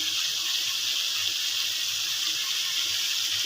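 Water is poured into a pan of crab curry with potato, pointed gourd, pumpkin, chili, turmeric and cumin, a steady, close gushing hiss that continues evenly without pause.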